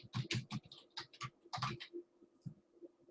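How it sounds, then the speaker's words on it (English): A name is typed on a computer keyboard in a quick, uneven burst of close key clicks that trails off into a few scattered taps. "The first thing you might do is just type in Neville Thompson in the search window for"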